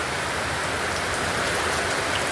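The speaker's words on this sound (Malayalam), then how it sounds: "ഇന്ന് പാലക്കാട് ഒരു മൂന്ന് മണിയായപ്പം തുടങ്ങിയ ശക്തമായ മഴയാണിത് അതിശക്തമായ മഴ നോക്കൂ" Heavy afternoon rain pours down in Palakkad, a dense, unbroken roar of drops hitting surfaces, loud and close with no pauses.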